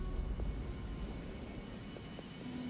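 Rain ambience plays quietly as a soft, steady hiss of rainfall with a faint low rumble beneath it, even and unbroken, with no voices.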